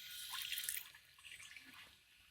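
Water trickles and splashes softly onto overly porous potting mix in a fruit-tree pot, a gentle uneven pouring with small drips, quiet and close.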